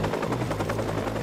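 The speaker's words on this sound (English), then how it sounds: "you might want to take out the helicopter" Helicopter in the video game Watch Dogs, a loud, continuous rotor chop with rapid rhythmic thumping and a droning engine buzz, close and unbroken.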